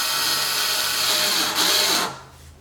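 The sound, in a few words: power drill driving a screw back in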